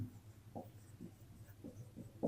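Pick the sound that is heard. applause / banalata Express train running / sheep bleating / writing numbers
writing numbers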